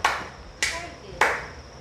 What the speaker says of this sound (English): let's give ourselves 5 claps